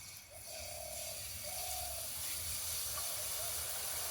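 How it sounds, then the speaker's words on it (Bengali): Boondi batter drops into hot oil and fries with a soft, continuous hiss and faint bubbling, fairly quiet and steady throughout. "এবার বুন্দিয়াগুলো ভেজে নেব, তার জন্য তেলটা আমি ভালো মতো গরম করে নিয়েছি।"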